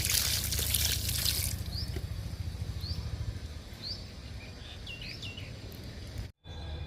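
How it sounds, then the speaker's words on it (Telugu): Liquid fertilizer splashes and trickles onto a potted curry leaf plant for a moment, then fades as scattered bird chirps carry on outdoors. "కరివేపాకు మొక్క కూడా ఇస్తున్నానండి లిక్విడ్"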